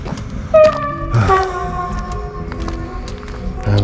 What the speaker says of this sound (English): Train's pulling up.